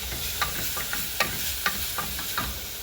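Food is stirred in a pan after cinnamon powder is added, a soft sizzle underneath with a series of irregular scraping and clinking spoon strokes close by, no talking.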